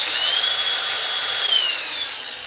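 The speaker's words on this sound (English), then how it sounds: "Nice flex grinder, the best grinder I've ever used." A Flex grinder spins smoothly at high speed, a close, steady whine with a thin high tone that dips and rises slightly, running continuously without voices.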